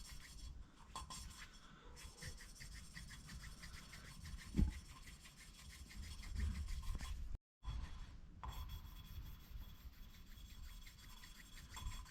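Valve seats on a 1979 Honda Goldwing being hand lapped with lapping compound, giving a steady gritty rubbing and rasping that runs continuously with a brief pause partway through, close and moderately quiet, with no talking.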